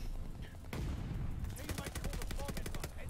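Rapid bursts of automatic weapon fire with a Type 100 submachine gun in the shooter game Call of Duty: Vanguard, crisp repeated shots in quick strings, fairly faint overall.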